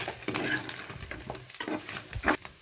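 Chicken fry stirred in a pan after coriander goes in, with a soft continuous sizzle broken by several scraping stirs at an irregular pace, close and moderately quiet.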